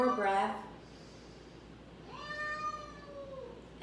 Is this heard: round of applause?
no